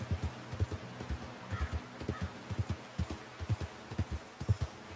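Horse hooves clip-clop in Red Dead Redemption 2, a steady walking rhythm of close, moderately loud thuds that continues for the full stretch with no talk over it.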